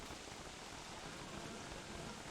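Steady rain in Don't Starve Together, a soft, even hiss of falling drops that stays faint and continuous for the whole moment with no voices over it.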